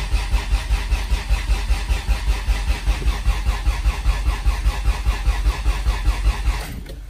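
A Honda car engine cranks without catching, the starter churning in a fast, even rhythm of repeated pulses for about seven seconds before cutting off, loud and close, no voices.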